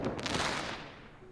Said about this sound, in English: Fireworks paint the darkness with brilliant, fleeting light.